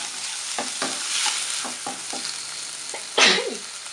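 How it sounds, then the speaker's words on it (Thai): Shrimp stir-frying in a hot pan sizzle under a steady hiss, with a series of scraping, clattering stirs and one louder burst of sizzle near the end. "เดี๋ยวเราผัดกุ้งให้สุกก่อนนะคะแล้วก็จะพักไว้เนาะ"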